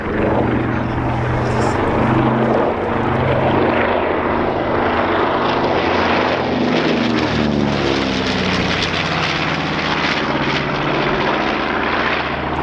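Twin radial piston engines of a B-25 Mitchell bomber at the Dunsfold Wings & Wheels air show, a loud, steady propeller drone with shifting harmonic tones as the aircraft passes, continuous and alone throughout.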